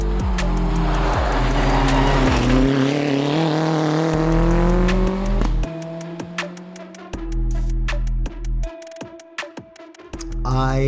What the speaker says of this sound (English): I drive a R4 Mitsubishi Mirage in RC2 class in the ARA